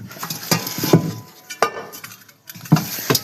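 A metal cooking pot being pulled out and handled outdoors beside a clay stove, with scattered clanks, scrapes and knocks of metal cookware close by and no talking.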